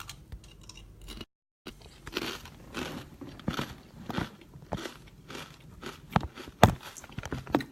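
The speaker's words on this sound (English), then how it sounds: "Here, you can listen to me crunch." Assorted crackers crunch close to the microphone in an ASMR-style eating session, with repeated crisp bites and chewing and a brief silent gap near the start.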